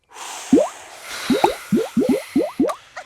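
Cartoon bubble-blowing effects from a children's animated show: a string of about eight short, wet squishy pops and drips, rising in quick bursts one after another, close and fairly loud over a soft airy background.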